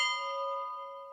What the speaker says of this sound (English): Kindly leave your go-by and Roman numerals at the sound of the chow bell.